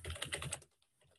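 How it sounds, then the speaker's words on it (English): Quick clicks of typing on a computer keyboard, a short close burst of keystrokes that stops after about half a second. "I can basically just click anywhere and I can just start typing."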